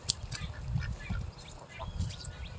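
Ducks on a farm in muddy early-spring conditions give repeated quacks and honk-like calls, close and fairly loud, heard outdoors with no talking.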